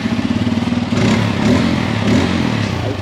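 A Bajaj Pulsar N250 motorcycle on its stock exhaust idles with a steady low burble, then revs up and holds a louder, rougher engine note close by, with no talking.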